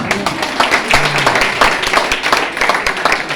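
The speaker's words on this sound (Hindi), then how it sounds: "हाँ, बजा सकते हैं तालियां" An audience claps steadily throughout, a dense continuous patter of many hands, fairly loud and close, with faint voices mixed in underneath.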